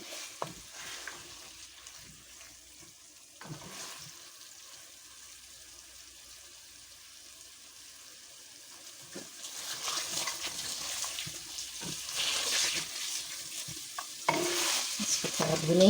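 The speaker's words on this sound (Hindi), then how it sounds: "इसको थोड़ा भूनेंगे ताकि इसका लेस ख़त्म हो जाए अरबी का।" Taro root (arbi) being fried and stirred in a pot for a meat curry, a soft sizzle with scraping spoon strokes that grows louder and more crackling toward the end, with no talking.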